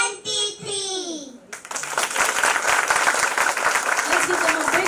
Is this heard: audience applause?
yes